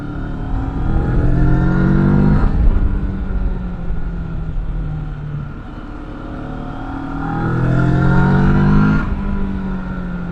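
An X-Cape 650 motorcycle engine ridden off-road: a loud, close, rumbling exhaust note that rises and falls through revs and gear changes, with two clear accelerations and no talking.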